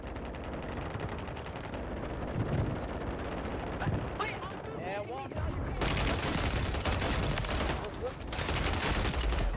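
Sniper and gunfire shots in the video game Call of Duty Warzone: a steady mix of gunshots and bursts of rapid fire, with a louder volley near the end, while a player talks over the action.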